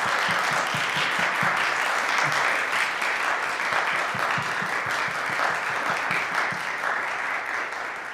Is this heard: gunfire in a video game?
no